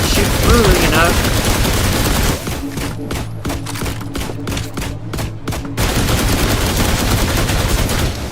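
Rapid gunfire in a sci-fi shooter game, fired at a robot through a railing: dense continuous bursts of shots throughout, with a stretch of evenly spaced sharp single shots in the middle, loud and close.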